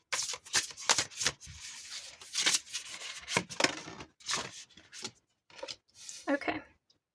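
Tarot cards being shuffled close up, with bursts of riffling and soft slapping card sounds in quick clusters, broken by short pauses toward the end.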